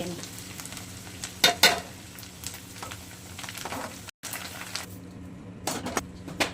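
Corn chivda frying in hot oil, a steady bubbling sizzle with occasional louder crackles and stirring scrapes, close and continuous, with a brief dropout midway.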